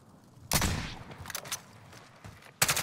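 Bursts of gunfire in a shooter video game: a loud volley near the start that trails off, a few scattered shots in the middle, and another sharp burst at the very end.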